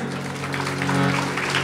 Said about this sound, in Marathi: नुसते टाळ्या, मी टाळ्यासाठी बोलतच नाही, टाळ्या वाजू नका.